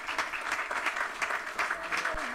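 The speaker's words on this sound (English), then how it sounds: "Let's give them a round of applause," Applause from a gathered audience at a city council meeting for a proclamation honoring a legal center, steady dense clapping throughout, fairly near and moderately loud, with a few voices mixed faintly underneath.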